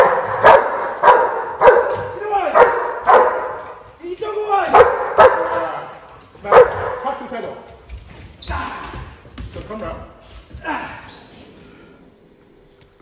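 A German shepherd police dog barks in repeated loud, close bursts during bite-work training, with a handler's voice and commotion mixed between the barks.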